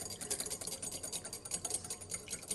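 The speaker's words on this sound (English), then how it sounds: "This is so little that we're gonna not need to whisk it for too long." A small amount of olive oil and lemon vinaigrette is whisked by hand in a bowl, giving a faint, rapid, continuous clicking and scraping rhythm up close.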